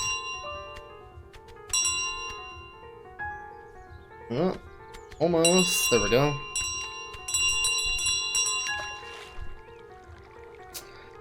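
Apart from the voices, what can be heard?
goose carrying ringing bell, from video game Untitled Goose Game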